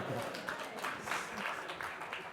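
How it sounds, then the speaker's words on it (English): Audience applause at a lecture: fairly faint, continuous clapping from a crowd that holds steady throughout. "You can applaud them for that."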